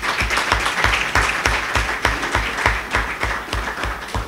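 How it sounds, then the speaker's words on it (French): An audience applauds for the CAEB and its leaders at an awards ceremony, with steady, dense clapping that stays loud and even throughout. "je vous prie d'applaudir pour le CAEB et pour les dirigeants du CAEB"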